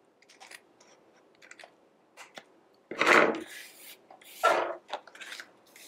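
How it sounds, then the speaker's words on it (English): Scissors snip away excess paper on a handmade Halloween card, a few faint light cuts followed by two louder, longer rasping slices near the middle and a last quick snip. "I'm going to cut the excess here"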